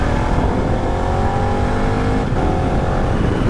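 A KTM 1290 Super Adventure R motorcycle's 160-horsepower engine revs loud and close, a steady strained drone under heavy wind rush, with a brief shift in tone midway and no talk.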